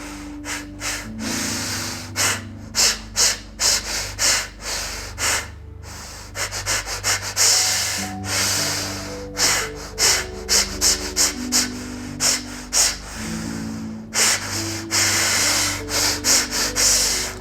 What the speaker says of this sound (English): if you take a short breath in, throw a long breath out